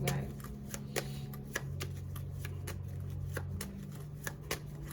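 A deck of tarot-style reading cards is shuffled by hand in a run of crisp riffling and tapping clicks, some quick and some spaced out, with a low steady hum underneath.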